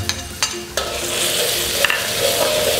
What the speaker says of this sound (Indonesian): Kita kasih minyak sedikit ya buat numis bawangnya sama cabai